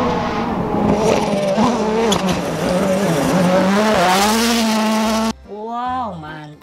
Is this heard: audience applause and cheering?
no